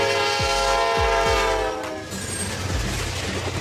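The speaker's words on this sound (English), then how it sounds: "Double-decker train, like a moving two-story house." A double-decker electric train passes close by, its horn sounding with several short blasts over a steady rumble and rattle of wagons that fades slightly toward the end.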